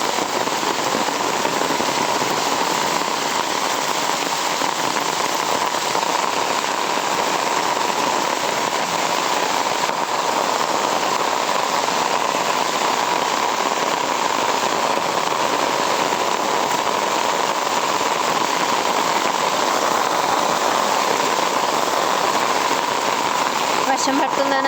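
Heavy rain pours steadily at a Bali temple entrance, a dense continuous hiss of drops striking nearby surfaces, loud and unbroken throughout.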